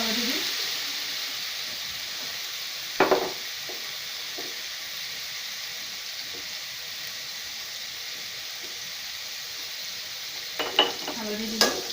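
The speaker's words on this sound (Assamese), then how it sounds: "মই এতিয়া তেলতে হালধি দিম।" Turmeric added to hot oil for an Assamese mutton curry gives a soft, steady sizzle at low level, with a few brief scraping clinks of the stirring spoon.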